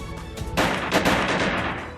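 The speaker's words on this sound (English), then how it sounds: "The surrounding men shot at him, and the bullets whizzed by Yang's eyes, while Yang was interrupted by the gunfire." Gunfire rings out in the visual novel game Piofiore: Fated Memories, a loud, close volley of several rapid shots with a rough, echoing tail.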